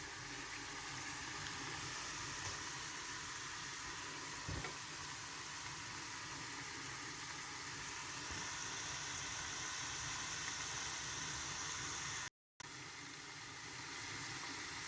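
Agbaclaclo dough balls frying in a pan give a steady, even sizzle of hot oil, moderately close and continuous throughout, with no talking.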